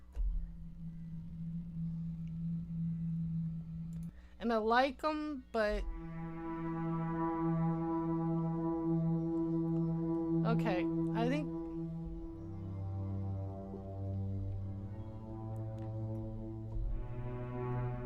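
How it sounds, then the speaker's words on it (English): A soft synth pad preset called Ambient Wind, drenched in heavy reverb, holds long sustained tones that shift in pitch, while a voice speaks over it briefly. "They're called Ambient Wind. They're very, very wet in their reverb."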